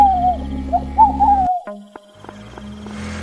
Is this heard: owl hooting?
yes